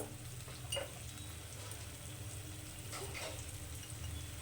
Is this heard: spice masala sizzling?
yes